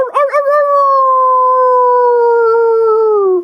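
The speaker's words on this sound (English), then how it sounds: "Frank and Angelina practiced their howling" A single long, loud coyote howl rises after a few short yips and holds a steady wavering tone for several seconds, close by and alone.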